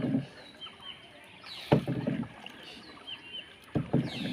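Oars dip and pull through water as a wooden boat is rowed, making quiet, regular splashing strokes about two seconds apart over soft outdoor ambience.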